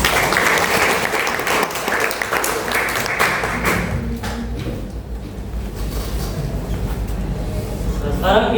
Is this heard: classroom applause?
yes